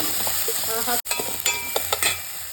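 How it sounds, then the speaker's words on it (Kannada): Onion and capsicum stir-frying in hot oil for restaurant-style gobi manchurian, a constant close sizzle with a brief dropout and the spatula scraping and clinking against the pan, with no talk. "ಈರುಳ್ಳಿ ಸ್ವಲ್ಪ ಚೆನ್ನಾಗಿ ಫ್ರೈ ಆಗಿ ಹಾಕಿದಂಗೆ ಕ್ಯಾಪ್ಸಿಕಮ್ ಹಾಕ್ಕೊಳ್ತಾ ಇದ್ದೀನಿ"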